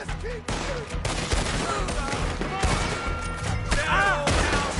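Heavy gunfire in the Red Dead Redemption 2 video game during a shootout at a house, with dense overlapping shots and volleys that continue throughout, loud and close, with shouting voices mixed in.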